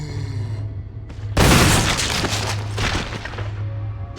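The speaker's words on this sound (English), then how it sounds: "God, I love shotguns" A shotgun blast in the Resident Evil survival horror game, in Jill's campaign: one loud, sharp boom that bursts in abruptly and rings out into a long rumbling tail, over a steady low game hum.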